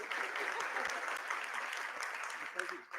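An audience at an entrepreneurs' business forum gives dense, steady applause that sounds close and continuous for a few seconds, with a voice speaking over the clapping.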